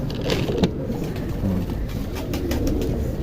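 A flock of pigeons kept by a fancier coos and rustles in a dense, low, continuous murmur close by, with faint traffic noise in the background.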